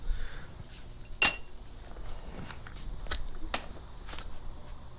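A crescent wrench and sockets on suspension bolts of a car with almost 200K miles, one sharp metallic clank followed by a few lighter clinks and taps, close and otherwise quiet.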